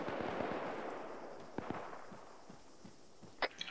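Scattered distant gunshots in a squad combat training game, faint sharp pops at irregular intervals over a soft background hiss, with a slightly louder crack near the end.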